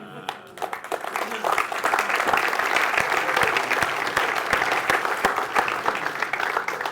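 Audience applause and cheering fill a launch event hall, a dense, steady wash of many hands clapping close and loud from start to finish, with a few voices in the crowd.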